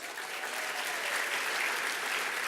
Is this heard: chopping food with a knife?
no